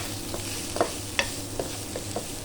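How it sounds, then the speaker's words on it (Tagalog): Eggplant and bitter gourd cooking in a pan, stirred with a utensil: a constant soft sizzle broken by several light clicking scrapes at an irregular, unhurried pace, close by and without speech. "Ayan guys, halu-haluin lang natin"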